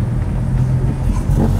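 A cammed Ford Mustang GT500 engine rumbles loudly and close up, a deep, lumpy, uneven idle with a choppy low throb that carries steadily through, with no talk over it.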